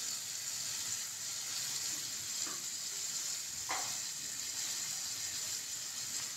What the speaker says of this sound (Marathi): परतून घेतो आपण.